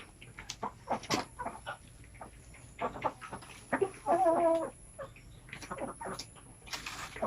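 Pet chickens clucking while pecking at pure feed, a busy run of short, close clucks and murmurs from several birds with occasional louder calls, no talk.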